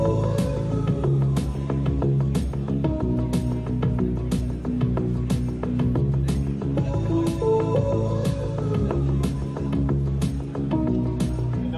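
Piano run through a Moog-style filter and Space Echo tape-delay plugins, playing a dense, continuous musical passage with steady sustained notes and echoing repeats, moderately loud and without talk.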